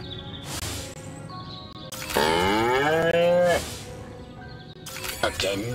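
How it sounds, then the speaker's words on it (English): Within the video game Destroy All Humans!, a cow gives a long, loud moo, framed by shorter, quieter lowing calls and faint bird chirps. "Again with the moo?"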